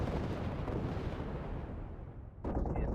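Rotary autocannon fire from a Bushwhacker mech in a video game: a dense, continuous rumbling roar of rapid shots that thins slightly, then surges into a sharp, loud burst near the end.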